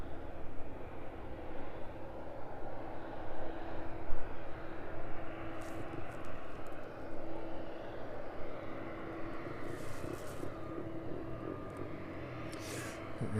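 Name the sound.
Boeing 767 aircraft at the stand before pushback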